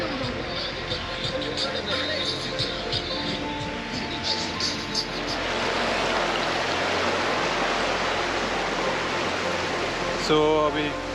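A river flows steadily beside the riders in Arunachal, a broad continuous wash of running water that holds the whole stretch, with a brief sharper sound near the end.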